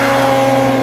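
A turbo snowmobile engine on a 154 track drones in a loud, steady revving buzz, close by and continuous for a brief moment.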